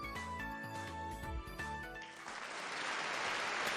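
Applause in a concert hall from a visual novel game, swelling from faint tinkling music into a dense, steady wash of many hands clapping that fills the room and keeps going.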